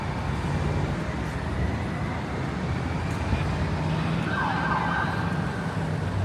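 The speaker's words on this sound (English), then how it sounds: "And some lights and a siren." A police car siren on a busy New York City street rings out over steady traffic rumble, the wail rising faintly mid-clip against the dense roadway noise.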